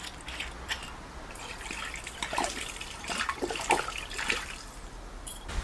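Red wine vinegar is poured into a preserving pan for beetroot and summer squash chutney, giving a faint, uneven liquid splashing and trickling over a few seconds.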